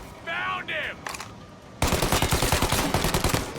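Gunfire in the video game Mafia: Definitive Edition erupts halfway through as rapid, loud machine-gun bursts. A short voice line and game sounds come before the shooting.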